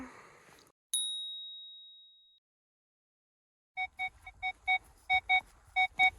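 Metal detector signal tones while hunting for coins in a forest: a single high ping that rings and fades, then after a pause a run of about nine short, evenly spaced beeps growing louder, with no talk.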